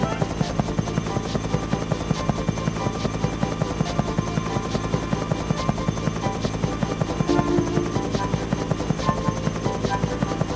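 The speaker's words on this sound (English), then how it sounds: "There's a biplane flying near you." A biplane drones nearby in Thomas & Friends Trouble On The Tracks, its engine making a steady, loud, buzzing hum with a rapid regular chop that runs unbroken throughout.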